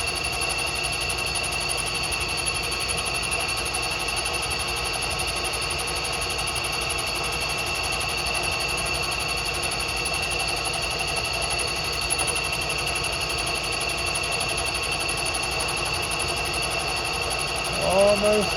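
A standard boring head machines an exhaust flange for headers, giving a steady, sustained high-pitched metal-cutting whine and hum throughout, with a short rising squeal at the very end.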